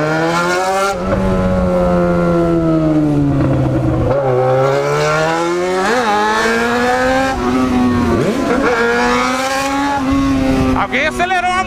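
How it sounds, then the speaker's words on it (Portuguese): A powerful motorcycle, an XJ6, revving hard and accelerating close by, its engine tone sweeping up and down through repeated gear pulls, loud and continuous over about twelve seconds. "Alguém acelerou a moto ali, hein, mano. Moto potente."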